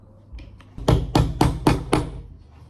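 A hammer strikes five times in a steady rhythm, each blow a loud, sharp, close impact, while preparing to paint; a little faint handling noise comes before the strikes.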